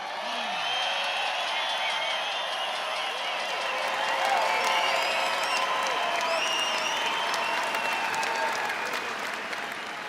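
Rally crowd at a Montana campaign event applauding veterans, a dense, steady wash of many hands clapping with scattered cheers and whistles, loud and sustained throughout without speech.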